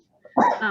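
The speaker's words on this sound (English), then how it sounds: "It was a cough" A single short cough from a person, close and fairly loud, preceded by a faint breath.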